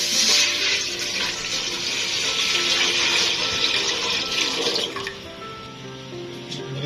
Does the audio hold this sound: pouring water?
yes